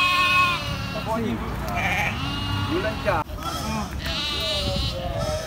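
Goats bleating at the Punteut goat market in Lhokseumawe, several wavering calls repeating close by amid market bustle, while people talk over them throughout.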